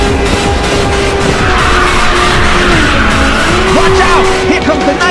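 Continuous loud tire squeal from a race car drifting in Ridge Racers 2, laid over a roaring engine with pitch sweeps and race music.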